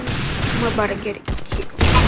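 Gunfire in the Roblox shooter Arsenal: a few sharp close shots cut through busy in-game noise and a speaking voice, with a dense burst of firing at the end.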